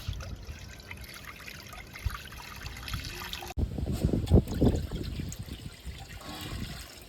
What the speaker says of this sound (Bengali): কড়াইতে আমি জল দিয়ে দিচ্ছি